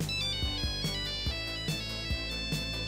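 A ringtone telephone in the film Cube Zero, with a repeating electronic melody that sounds steadily across the whole stretch, close and clear, with no one speaking.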